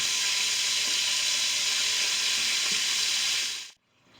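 Beef browning in batches in an Instant Pot for beef bourguignon, a close, steady frying sizzle with occasional stirring scrapes, continuous without speech before cutting off abruptly near the end.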